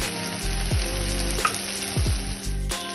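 Chopped tomato and spices frying in a pan for capsicum chicken, a loud continuous sizzle broken by a few scraping stirs and clinks, close and without talk.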